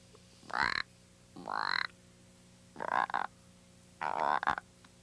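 Toad in an animated 1986 Thumbelina cartoon croaking four times, each a loud, close, raspy call with gaps between, heard alone.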